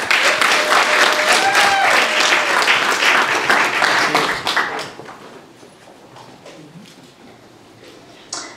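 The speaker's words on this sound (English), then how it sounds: "give them a warm round of applause" A presentation audience breaks into warm applause, strong and sustained for about four and a half seconds, then thins into scattered claps and room noise, with a faint voice in the background.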